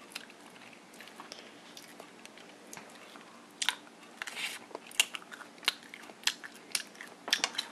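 Crunchy DiGiorno pizza dipping strips with marinara sauce being bitten and chewed up close, a run of sharp crunches that grows denser and louder in the second half, with no talking.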